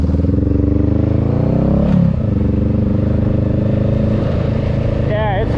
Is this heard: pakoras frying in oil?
no